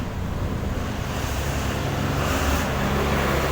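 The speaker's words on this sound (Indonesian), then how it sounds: "ya ini ada truk kenceng." A truck passes fast on a road near a railway station, a broad steady roar of traffic and rushing air swelling toward the end.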